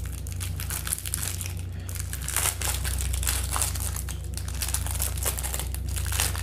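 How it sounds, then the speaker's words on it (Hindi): A Pears glycerin soap bar has its wrapper opened and is cut with a kitchen knife, giving continuous close crinkling and crunching of packaging and soap with a steady low hum underneath. "इसको कर लिया ओपन और इसको छुरी की जरिए से काट करते हैं।"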